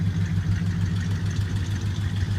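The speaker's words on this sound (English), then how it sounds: "I don't know if you can hear that exhaust or not, but you know, it's not real loud, not obnoxious, but it does sound good." A 1966 Cadillac Fleetwood's big V8 idles steadily through its exhaust, a continuous low rumble with even pulsing, close and fairly loud with no talking.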